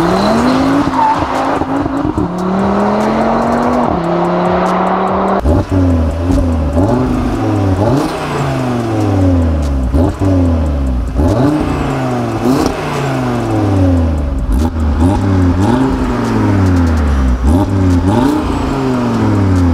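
A Cupra Formentor VZ5 with a 2.5-litre five-cylinder TSI engine and seven-speed DSG in Forza Horizon 5 revs hard through repeated upshifts, its engine note climbing and dropping in steady sweeps over squealing tyres, loud and close with no talking.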